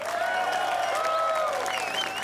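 An audience applauds at the Sena European Guitar Award 2016 ceremony, and sustained tones and sweeping, whistle-like lines run over the steady clapping.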